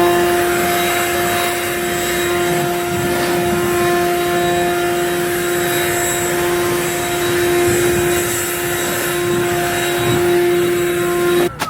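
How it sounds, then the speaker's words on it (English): Compressed air blowing down a combine baler, a steady loud hiss and whine with a constant tone, continuous and close for the whole stretch with no talk. "Now we'll give her a good blow down."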